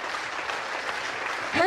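Concert audience applauding after a song, dense continuous clapping from a crowd filling the space, steady and fairly loud, with a voice rising just at the end.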